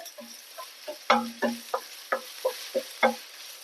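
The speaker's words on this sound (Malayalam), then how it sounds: "ഉള്ളിയൊക്കെ നല്ലോണം വഴന്ന് വന്നിട്ടുണ്ട്" Onions sauté in a pan for paneer mutter masala, stirred with about ten rhythmic, distinct scraping strokes over a faint background sizzle, close and fairly quiet.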